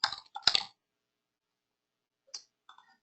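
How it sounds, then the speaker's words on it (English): Email address tapped out on a computer keyboard: a quick close burst of clicking keys, a pause, then a few scattered keystrokes. "my email, I'll just type it in here as well"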